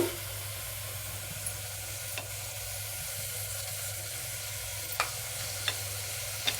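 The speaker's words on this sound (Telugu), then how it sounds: "అల్లం ముక్కలు ఉల్లిపాయ ముక్కలు బీన్స్ పచ్చిమిరపకాయలు వేయించుకుంటున్నాను" Ginger, onion, beans and green chillies frying in oil inside a pressure cooker give a steady, quiet sizzle, broken by a few faint scrapes and stirring clicks near the end.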